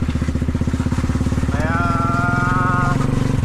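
A motorcycle engine runs steadily with a strong low, pulsing rumble throughout, while a voice speaks over it in the second half.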